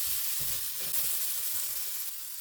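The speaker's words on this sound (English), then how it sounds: "I am sold on this frying the zucchini half moons from Frozen." Frozen zucchini half moons sizzle and fry in a pan, a steady bright crackling hiss with soft stirring bumps, close and moderately loud, no talking.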